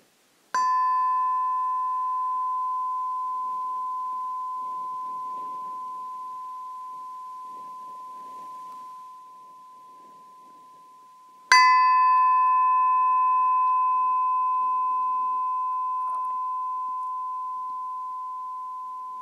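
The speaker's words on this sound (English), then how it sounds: "I will now ring the gong 3 times to mark the end of this" A gong at Santi Forest Monastery marks the end of a guided meditation: two clear, pure strikes about eleven seconds apart, each ringing out with a long, slowly fading sustain in near silence.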